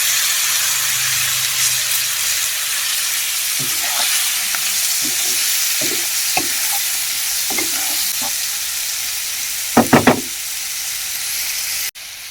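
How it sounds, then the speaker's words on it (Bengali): Chopped potatoes with turmeric fry in a hot pan with a loud, even sizzle. Scattered stirring scrapes and a quick cluster of sharp utensil knocks break through it near the end. "দু চামচ হলুদ দিয়ে দিলাম এর মধ্যে আলু কুচিগুলো দিয়ে দিলাম"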